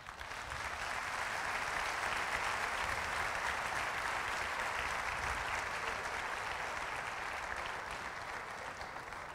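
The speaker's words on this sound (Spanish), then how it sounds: "Un aplauso a esa gente" Sustained audience applause fills a church, a steady dense wash of clapping that holds loud and even for the whole stretch, easing slightly toward the end, with no speech over it.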